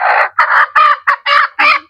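Chickens in a yard cluck and squawk in loud, repeated bursts close by, about six short calls in quick succession with brief gaps between them.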